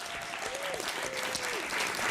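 A studio audience at a dating game show claps loudly and steadily after a contestant's answer. A faint tonal whistle or voice sits under the dense clapping.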